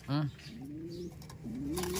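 Pigeon cooing close by, a few soft low coos in a short run, with a voice speaking faintly underneath.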